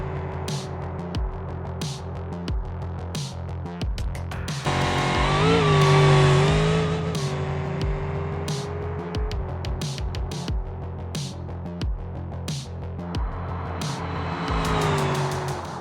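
A custom-built drag vehicle in the BeamNG driving game accelerates with a loud engine that revs and changes pitch, with tire squeal around mid-clip and repeated sharp clicks or shift transients throughout.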